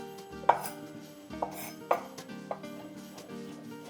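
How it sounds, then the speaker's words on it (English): A knife slices mushroom stems into julienne matchsticks on a cutting board, giving four separate crisp taps with light clinks, close and quiet in a calm kitchen. "first slice them like this, and then I slice them into little matchsticks, julienne"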